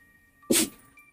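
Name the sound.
dog sneezing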